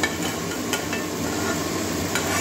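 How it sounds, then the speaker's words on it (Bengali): Fried potato and cauliflower pieces being stirred into a pan of cooked-down spices for a Bengali cauliflower-potato moong dal, giving a steady close sizzle with soft scraping stirs and a few light knocks, no talking. "এবারে ভেজে রাখা আলু ফুলকপিটা দিয়ে দেবো।"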